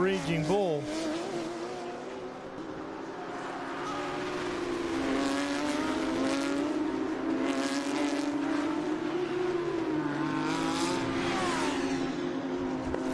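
Race cars, including a Porsche and an Audi, roar around a road course during a racing event, engines droning and shifting pitch as they pass nearby, with a commentator talking over the continuous noise.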